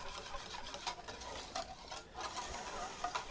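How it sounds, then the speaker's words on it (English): A whisk works spiced hot chocolate paste up from the bottom of a pot into milk, giving faint, close, rhythmic scraping clicks and swishes that repeat steadily without pause. "Give that a little bit of a whisk."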